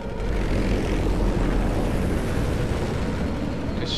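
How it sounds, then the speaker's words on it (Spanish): Helicopter flying overhead in the video game Condemned 2, a loud, steady broadband rotor and engine roar that holds constant for the whole stretch with no talk over it. "Ah, no, un helicóptero."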